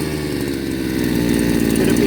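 The petrol engine of a Baumr-AG Snipper brushcutter runs steadily close by, a buzzy, rattling two-stroke drone that grows slightly louder over its short span.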